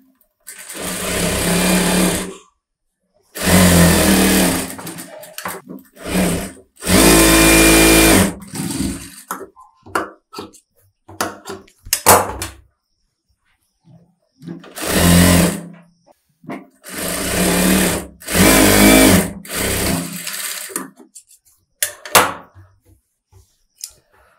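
A sewing machine stitches a close-neck blouse in loud, close bursts of rapid mechanical whirring, starting and stopping repeatedly with short pauses and faint handling noises in between.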